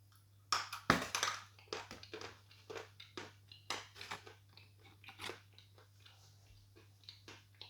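Crunchy snack being chewed close up, a series of sharp, irregular crunches, loudest near the start and then settling into steadier bites, with no talking over them.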